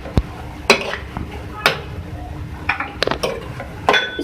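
Green chilies and mint being stirred in a cooking pot for mash daal, with a spoon scraping and clinking against the metal in irregular knocks, close and moderately loud.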